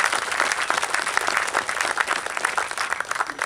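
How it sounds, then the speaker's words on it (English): Steady, dense applause from an audience honoring soldiers at a battalion change of command ceremony, sustained and even throughout without breaks. "Round of applause, please, these great soldiers."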